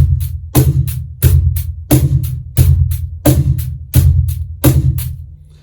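A straight rock groove on a cajon, alternating deep bass and snappy snare hits, with a cabasa shaking in steady eighth notes; loud, close and evenly paced with no talking.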